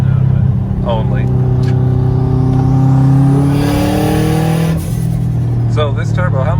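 A turbocharged car engine of roughly 600 horsepower idles loud and close, a deep steady drone that rises in pitch with revving, with turbo whistle and brief voices over it.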